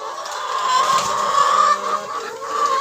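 Chickens cluck steadily and close by in their new coop, a continuous busy flock chatter with an occasional louder call, heard alone without talk.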